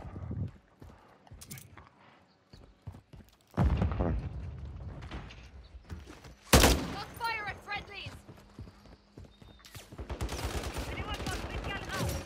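In Call of Duty, gunfire comes in scattered bursts: single sharp shots and rapid volleys at varying distances, mixed with in-game mechanical noises and a voice talking.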